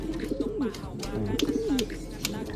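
Pigeon cooing inside its coop, a few soft low rolling coos repeated close by over steady background noise.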